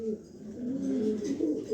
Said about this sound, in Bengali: এখানে এক পেয়ার পাইট কবুতর দিলাম